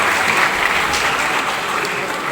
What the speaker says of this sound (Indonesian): Bahasa Jepang, Hafsu tepuk tangan